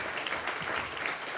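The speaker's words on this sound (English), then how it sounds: "If we can give them a big round of applause, our warriors." An audience at a quarterly breakfast applauds in honor of veterans, a brief, fairly faint patter of steady clapping heard from a distance in the room.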